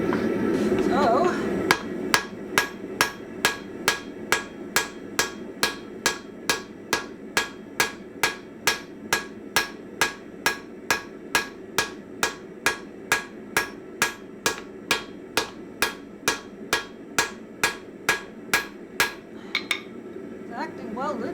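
Steady, evenly spaced hammer blows ring out on hot steel while a bearded axe is forged in three parts, each strike sharp and metallic in a long regular rhythm, with a faint voice at the start.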